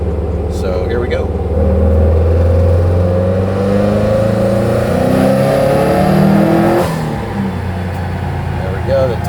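A race car with Injector Dynamics injectors roars steadily under load on a dyno in a racing workshop, engine pitch sweeping up and down, loud and close throughout.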